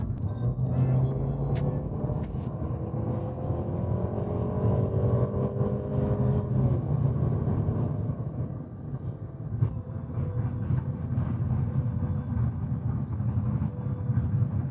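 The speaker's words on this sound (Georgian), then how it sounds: "სასიამოვნო ხმა შემოდის თუ არა ძრავისგან" A Mercedes CLA 250 engine drones steadily while driving, heard from inside the car as a continuous low hum with road noise and slight rises in pitch as it pulls along.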